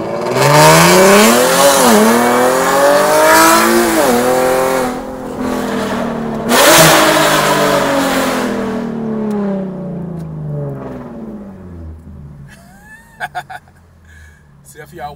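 Nissan 370Z with a loud aftermarket exhaust, revved hard several times, each rev rising and falling in a close, roaring blare before settling to a quieter idle, with a few clicks near the end.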